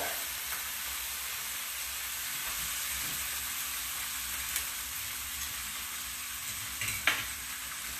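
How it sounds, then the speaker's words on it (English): Half of a large pork shoulder sears in a pan on a home stove, giving a steady, even sizzle with a constant hiss and a few small pops and clinks near the end. "here on the stove, I'm searing my pork shoulder"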